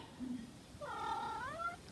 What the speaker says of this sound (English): There's our kitty.